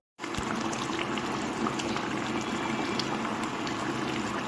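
Aloo dum, a Bengali potato curry, cooking in a pot over raised heat: a steady, dense bubbling and sizzling fills the whole stretch, loud and close, with no speech.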